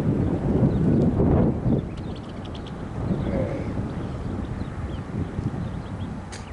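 Wind buffets a microphone outdoors during a workout, a low rumbling roar that is strongest in the opening seconds and then eases into lighter, uneven gusts.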